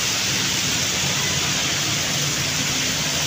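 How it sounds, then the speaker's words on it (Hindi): Heavy rain pouring steadily, a dense, loud, uniform hiss of downpour with no breaks and no voices. "बहुत ज़्यादा तेज स्टार्ट हो गई है बारिश।"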